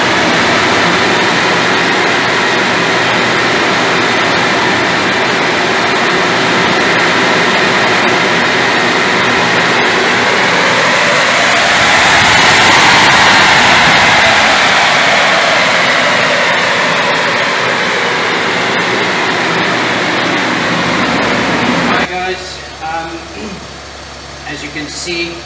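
A Nissan Navara 3.0 dCi diesel engine runs on a dyno after ECU tuning, droning loudly and rising through a long full-load pull to a peak before winding down and cutting off near the end.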